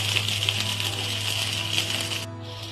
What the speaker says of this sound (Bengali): আমি লাল করে ভেজে নেব।